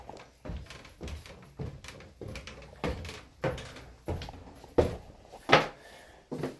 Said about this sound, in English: Oh, he's opening the door again.